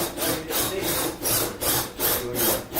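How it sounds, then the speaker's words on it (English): Harsh rhythmic rasping strokes, roughly two per second, close and loud, as metal is ground until it smokes. "You wanna keep grinding on that, that's real smoking right now."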